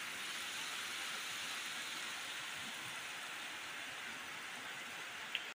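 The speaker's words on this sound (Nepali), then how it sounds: "यहाँतिर चाहिँ यता चाहिँ पानी पर्दिरहेको।" Rain falling steadily in a hilly Nepali village, a dense even hiss that holds constant throughout, fairly quiet and with no voices.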